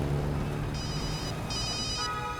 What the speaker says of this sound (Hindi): किसका फोन है सर?